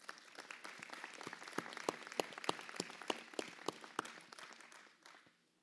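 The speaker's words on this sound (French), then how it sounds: "Je crois que vous pouvez l'applaudir aussi, ça." An indoor audience at a town's New Year greetings ceremony applauds with dense, fairly distant clapping that holds for several seconds and then fades out.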